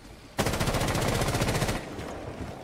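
A single sustained burst of rapid automatic gunfire in Rainbow Six Siege starts abruptly, loud and close, rattles evenly for about one and a half seconds, then stops, leaving quieter game ambience.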